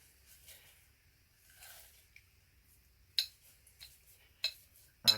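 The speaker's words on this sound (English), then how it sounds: "I'm just squishing it down, trying to get the ink to cover the whole surface." Alcohol ink is squished onto a ceramic plant pot, heard as quiet close wet squelches and dabs, with a few sharper spaced taps toward the end and no talking.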